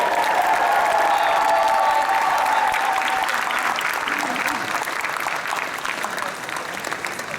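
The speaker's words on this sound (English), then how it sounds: "give a big round of applause for everyone on stage" Steady applause from a large audience at an anime convention opening ceremony, dense and continuous, with some faint voices mixed in and a slight fade toward the end.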